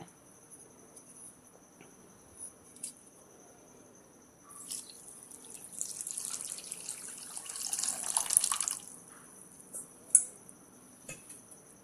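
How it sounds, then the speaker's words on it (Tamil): Water pours into a kitchen pot holding sugar for homemade nannari sarbath, a soft trickle that swells into a steady splashing pour midway before tapering off, fairly quiet and close with no talk. "அதே அளவில் பாதி அளவு தண்ணி ஊற்றிக்கோங்க"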